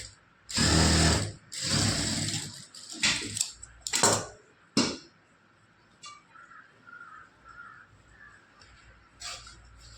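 A sewing machine stitching a patch on a lined saree blouse, running in several close, loud bursts of rapid stitching separated by pauses, with fainter mechanical clicks and light handling noises afterward.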